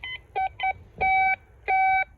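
A metal detector sounds over a target under a tree in a forest. It gives short, high, two-tone electronic beeps, two brief ones followed by longer sustained tones in an uneven rhythm, clear against a quiet background.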